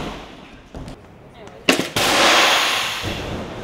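A pneumatic air ramp used by stunt performers to simulate a mine explosion fires with a sharp loud blast followed by a rushing hiss of released air, near and alone.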